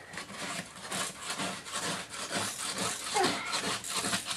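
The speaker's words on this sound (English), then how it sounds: "And I will scrape the rest of the sugar." Hardened poured sugar candy is scraped off candy boards used in beekeeping. Continuous close rasping strokes repeat in an uneven rhythm for the whole stretch.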